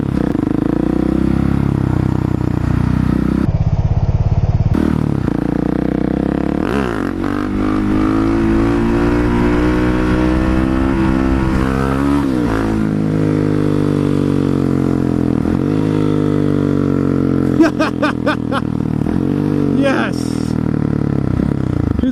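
A Husqvarna 701 supermoto motorcycle being ridden, its engine loud and close, revving up and down through rising and falling pitches, with a voice talking over the engine noise.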